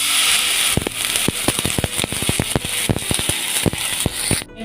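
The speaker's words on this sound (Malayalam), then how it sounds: "ഇനി ഇതിലേക്ക് നമുക്ക് 100 ml വെള്ളം ഒഴിച്ച് കൊടുക്കാം" Water hits a hot pan of spices (cumin and fenugreek powder) while pulisseri is being made, setting off a loud hiss with rapid, irregular popping crackles that stops abruptly at the end.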